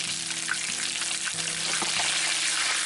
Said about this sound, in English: now we're frying the tomato paste with with the bones